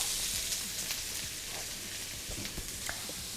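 Sliced onion and aromatics hit a pan of hot oil with toasted spices, giving a loud, continuous crackling sizzle with small pops throughout.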